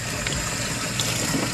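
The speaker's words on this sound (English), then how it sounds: "You want to wash it really well." Steady broadband rush of tap water running continuously while beef and marrow bones are washed in a home kitchen, close and even with no talk over it.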